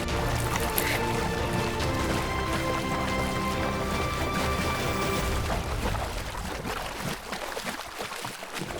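Lions cross a river, wading through water with continuous splashing and sloshing that thins out toward the end, with no voices.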